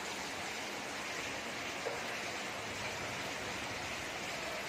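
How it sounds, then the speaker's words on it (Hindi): Heavy rain pours down steadily, a dense, loud hiss of water hitting surfaces with no letup and no voices. "इतनी तेज बारिश आ रही है, पानी भर रही है"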